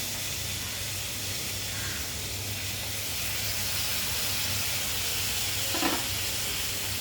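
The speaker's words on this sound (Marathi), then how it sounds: "थोडं तेल टाकलं आहे तिथे आपण हा कांदा घालूया" Chopped onion dropped into a little hot oil sizzles steadily for several seconds, a soft continuous frying hiss with a brief crackling burst near the end and no talk.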